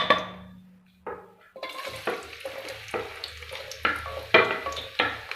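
Sliced onion dropped into hot oil in a wok bursts into a crackling sizzle after a brief hiss. Repeated stirring strokes follow, with the frying steady and close underneath.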